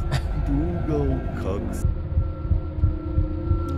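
A low, rhythmic heartbeat from the horror video game The Karaoke thumps steadily, repeating about every half second in the second half, with someone talking over the start.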